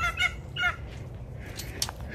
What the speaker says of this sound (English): We have the guard goose in here.